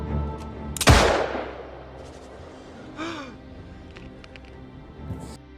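A single sharp gunshot cracks loudly near the start, then fades into quieter background sounds and a brief voice.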